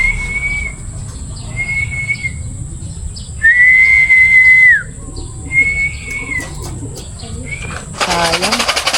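A whistle blown in short steady blasts, one held longer in the middle, at a club pigeon training toss in Teresa, Rizal; outdoor background noise and voices around it, with a burst of noise at the end.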